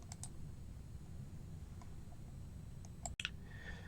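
A computer mouse clicks once while saving in software, a single sharp close tick over a quiet room hum.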